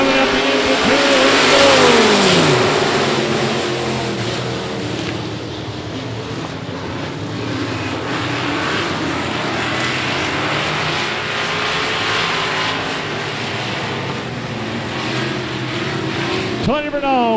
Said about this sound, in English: Revving up the engine.